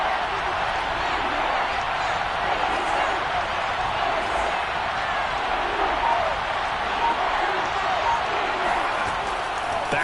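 A football stadium crowd roars steadily ahead of a big third down during a Divisional Round playoff game, a broad, sustained wash of cheering and applause that stays fairly even the whole time.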